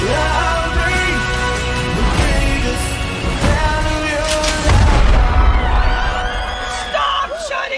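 Bursts of gunfire ring out in a loud comedy film trailer amid shouting and yelling voices, with music and crowd noise throughout.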